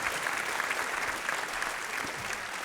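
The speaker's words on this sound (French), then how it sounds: "On applaudit Wendy." A theater audience gives a steady round of applause for a stage volunteer named Wendy, dense and even clapping throughout the short stretch.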